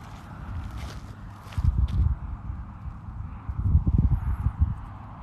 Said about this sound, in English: I just heard a couple footsteps.